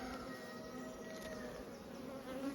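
Honey bees buzz steadily inside an open hive during a beekeeping inspection, a dense continuous droning hum that stays close and even throughout, with no talking.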